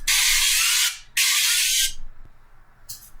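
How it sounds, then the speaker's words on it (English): Vegetable oil sprayed from a can into a second cake pan gives two sustained, close hissing bursts back to back, then a short final puff, with no talking. "And spray the second one."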